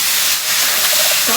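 Beef dropped into a teaspoon of hot olive oil for a pepper beef stir fry gives a steady, loud broadband sizzle and hiss that runs throughout, with a brief shift near the end.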